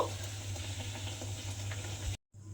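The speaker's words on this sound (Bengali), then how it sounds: "এইভাবে আমি সমস্ত কচুরিগুলো ভেজে নেব" Mung dal kachori frying in a little oil, a soft, steady bubbling sizzle with a low hum beneath, cutting out abruptly near the end before resuming faintly.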